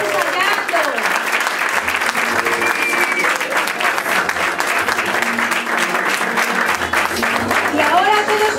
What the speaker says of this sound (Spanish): Otro aplauso enorme para ellos.